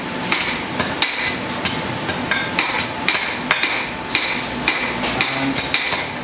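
A blacksmith hammers bodkin arrowheads at a forge: a steady series of about a dozen sharp, ringing metallic blows, close and loud, evenly spaced with no talking.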